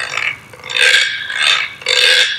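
A güiro is scraped with a stick along its ridges, giving three close, loud, raspy scrapes of rising and falling intensity with no talking.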